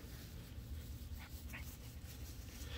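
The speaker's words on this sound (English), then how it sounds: "they each got a rope and it's a tug-of-war toy, so they can both pull on it together." Two dogs playing tug-of-war with a rope toy: a faint, muffled stretch of growling, panting and scuffling against a constant noisy background, with no clear barks.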